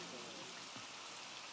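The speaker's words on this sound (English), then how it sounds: "An unpleasant sound greets the new day, rain." Rain falls steadily at a riverside campsite in Oregon, a soft even hiss of drops with no breaks, fairly faint and close.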